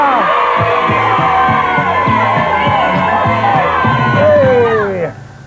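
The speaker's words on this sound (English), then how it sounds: "You've scored two! Give her a cheer, come on!" Studio audience on a 1987 kids' TV gameshow cheering loudly, a dense wall of young voices whooping and shouting that holds for several seconds before dropping away.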